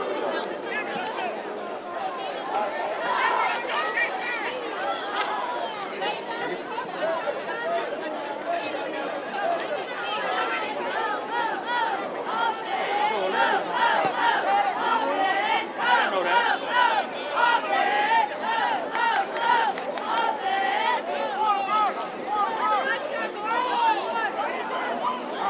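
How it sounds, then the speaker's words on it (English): A hometown and visiting North crowd at a football game makes a continuous roar of shouting and cheering, loud and steady for the whole stretch with voices rising and falling. "So the hometown crowd and the North crowd loves it."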